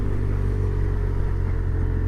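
A BMW R1200 R motorcycle engine braking downhill in second gear, giving a steady, low, throbbing engine drone with an even rumble throughout, no voices.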